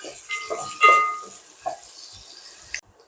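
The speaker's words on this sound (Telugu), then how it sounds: "ఇలా ఆనియన్స్ కూడా వేసుకొని ఇలా కొంచెం గోల్డెన్ బ్రౌన్ కలర్ వచ్చే వరకు అయితే ఫ్రై చేసుకోవాలండి" Sliced onions fry in a pan for paneer dum biryani, giving a soft steady sizzling hiss broken by a few stirring scrapes and clinks, with a voice speaking now and then before it cuts off.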